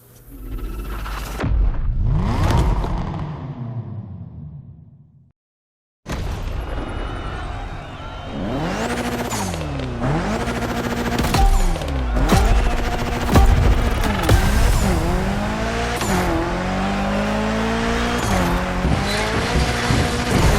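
A Mitsubishi Evo 9 gymkhana car in The Crew Motorfest game revs hard and squeals its tires, with a short blip, a brief silence, then a long, loud stretch of engine sweeping up and down close by.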